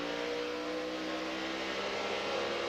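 A Toyota NASCAR truck races at Texas, its engine winding up hard to around 9,000 RPM before a shift. The sound is a steady, dense, high-pitched mechanical roar with tonal engine harmonics, moderately loud and uninterrupted, with no talk.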